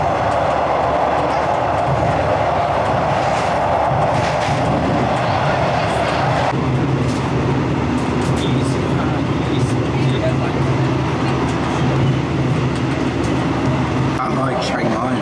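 Riding aboard a delayed passenger train in Thailand, a loud continuous rumble and rattle of the carriage with broadband wheel and track noise, steady throughout, with a shift in tone partway through and a voice talking over it.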